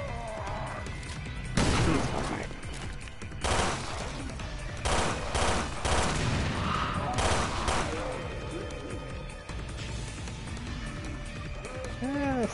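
Shotgun blasts in Resident Evil Revelations 2 Raid Mode on PS4, several loud bursts spaced irregularly through busy game action, with other effects and a voice talking over it.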